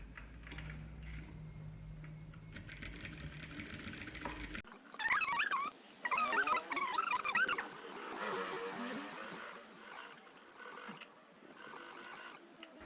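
Sewing machine stitching a backstitch across a dish towel, a steady mechanical ratcheting hum broken by short bursts and pauses, close and fairly quiet with no talk.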